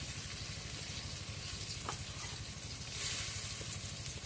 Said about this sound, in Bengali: এখন মরিচের গুঁড়ো দিয়ে দিই এখন জিরা বাটা রসুন বাটা দিয়ে দিই